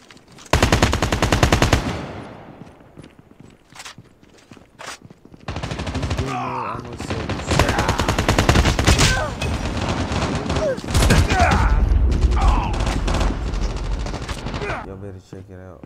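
Rapid automatic gunfire from Call of Duty Mobile in a gun game team fight, loud close bursts in several volleys with brief pauses, mixed with game effects and some voices.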